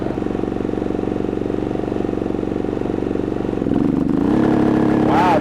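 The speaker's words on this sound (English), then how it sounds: "There goes the compressor." Running steadily nearby, a Westinghouse iGen4200 inverter generator hums as a load change comes partway through when an RV air conditioner compressor kicks on, leaving the engine tone shifted and slightly louder afterward.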